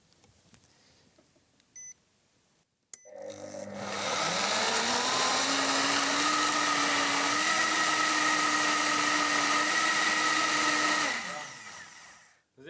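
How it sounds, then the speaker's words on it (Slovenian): A smoothie maker blends a fruit smoothie, starting abruptly with a loud, steady high-pitched whir that holds for about eight seconds, its motor tone rising slightly midway, then winding down; a few faint clicks precede it. "zdaj pa enostavno v smoothie makerju tole mi zmiksamo"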